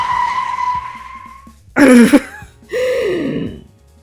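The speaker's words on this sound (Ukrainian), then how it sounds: "З останніх сил відстрибнув, коли джип пролетів повз, гальмуючи на льоду." A jeep brakes on ice and skids, giving two harsh, loud screeching bursts close by after a fading tonal note, with a low rumble underneath.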